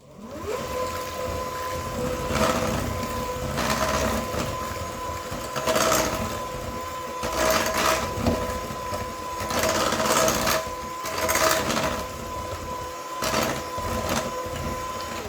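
An electric mixer whirs through pumpkin cookie batter, its motor droning close and steady with a rhythmic rise and fall as the beaters move through the bowl.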